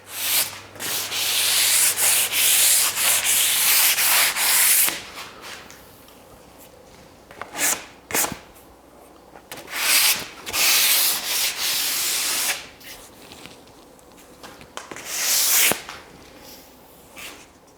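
Oak countertop bevel being sanded by hand: repeated rubbing, scraping strokes in loud bursts with short pauses between, close and alone without speech.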